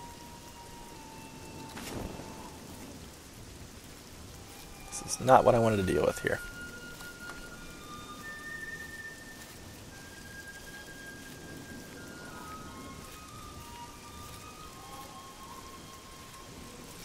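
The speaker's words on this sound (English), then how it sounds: "God, not rain." Steady rain falling in the video game Oblivion, a soft continuous patter throughout, with someone talking over it and a brief louder burst of game sounds partway through.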